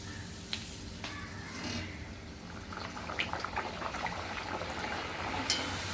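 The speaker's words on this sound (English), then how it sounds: "So let's fry the puris." Puris deep frying in hot oil on medium-high heat, a steady close sizzle and bubbling with small crackles and pops throughout, no voices.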